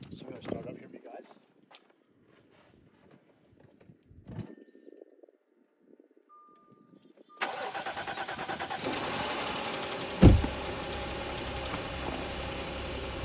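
A Volvo XC90 engine cranks and catches after quiet talk, then settles into a steady idle with a brief rattle from the timing chain near the start, close and fairly loud.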